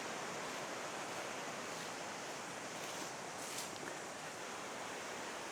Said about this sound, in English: There is quite a bit of water coming